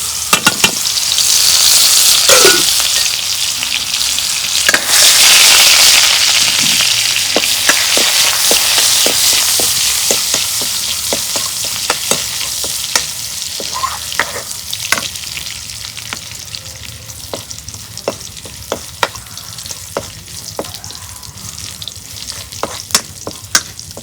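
Garlic tempering in hot oil in a wok sizzles loudly and continuously, strongest at first then gradually easing, with sharp spatter pops and stirring clicks throughout and no talking.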